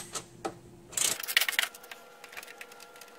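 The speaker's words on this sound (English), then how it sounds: "Take your socket and ratchet and loosen that up." A socket and ratchet loosens a long 13mm bolt beneath an AC line on a RAM 1500 5.7, giving a quick burst of close, crisp metallic clicks that fade into faint ticking.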